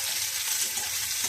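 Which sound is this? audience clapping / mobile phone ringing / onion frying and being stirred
onion frying and being stirred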